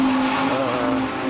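Race car running at the Imola circuit in Italy, a loud steady engine drone holding one pitch for over a second, heard from trackside without any talk.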